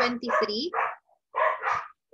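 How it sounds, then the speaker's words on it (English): Dogs bark outside a classroom in a rapid cluster of yaps and barks, a short pause, then another burst, fairly close and clear. "Bear with the dogs outside class."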